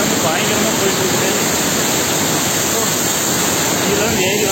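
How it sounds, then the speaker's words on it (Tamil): A waterfall roars with heavily rushing water, a loud, constant broadband wash that fills the whole moment without a break. "கடைசியாக அந்த வாட்டர் ஃபால்ஸ் வந்துச்சுங்க."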